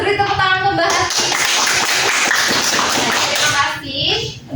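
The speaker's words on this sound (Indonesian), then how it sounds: "Beri tepuk tangan ke Mbak Hasti." Children in a third-grade classroom clap together in a dense, loud burst of applause that lasts several seconds, with children's voices mixed in before and after.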